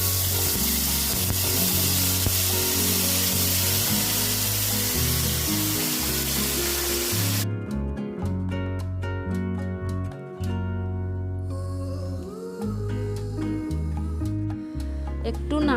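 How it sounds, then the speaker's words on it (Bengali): Tomato paste hits a hot kadai while a vegetarian taro curry cooks, giving a loud, continuous sizzling hiss for the first half before music takes over. "এবার কড়াইতে টমেটো পেস্টটা দিয়ে দিলাম।"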